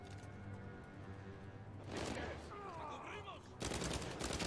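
Gunfire from the video game Uncharted 4 erupts in loud bursts amid a busy combat scene, with a sharp volley near the middle and a heavier burst near the end, over quieter background sound.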